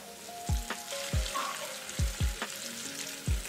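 Onions softened with a little salt frying in a pan as turmeric is stirred in, a steady close sizzle broken by about six sharp knocks of a spoon against the pan, with no voices.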